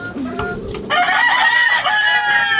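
A fighting rooster crows loudly and close by, a long strained cock-a-doodle-doo after a few softer clucks at the start.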